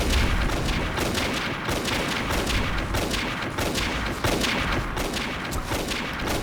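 Gunfire in the video game Avatar Star rattles in dense, continuous bursts of shots, loud and close throughout, with no pauses.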